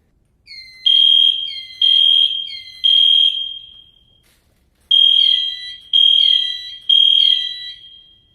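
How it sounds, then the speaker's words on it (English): A school fire alarm sounding for a fire drill: loud, piercing electronic tones in two groups of three evenly spaced beeps, separated by a short pause, with no other sound around them. "Sometimes a drill is signaled solely by the fire alarm."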